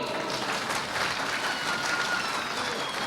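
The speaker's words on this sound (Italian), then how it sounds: "Un applauso a lei." A live comedy-show audience in Ruvo di Puglia claps in a steady, moderately faint wash of applause that holds evenly to the end.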